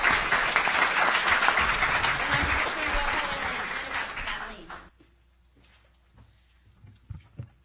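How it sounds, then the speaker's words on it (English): Audience applause for the panelists at an opening plenary of a policy summit, a dense sustained wash of clapping that swells then fades out, ending in near silence with a few faint bumps. "Let's give the panelists a round of applause"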